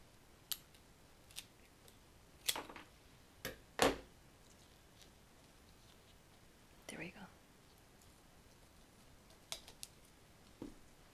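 Scissors cut flower stems for a late autumn arrangement: soft, crisp snips scattered irregularly, some in quick pairs, close and quiet against a hushed background, with a soft whispering voice.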